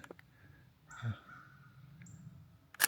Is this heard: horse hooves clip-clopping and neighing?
no